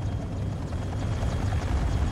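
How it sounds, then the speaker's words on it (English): A helicopter in Armored Core 6 drones loud and close, its low, rumbling, rotor-heavy roar holding steady without a break. "The chopper has exited the combat zone."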